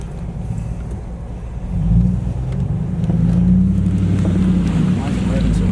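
Cummins diesel 4x4 truck revving hard in 4 low while launching out of a muddy river, a loud steady engine roar that rises and holds at high revs, with people talking over it.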